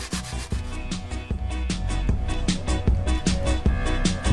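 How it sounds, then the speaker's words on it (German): Puccia bread is grated finely for a crust, a loud, close, rhythmic rasping scrape repeating in steady strokes. "Für die Kruste die Puccia fein reiben."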